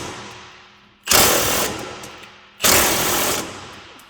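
A big 1/2-inch impact gun set on level 4 hammers at a rusted control arm bolt in two loud, close bursts of rapid rattling impacts, each lasting about a second, with quiet decaying gaps between them.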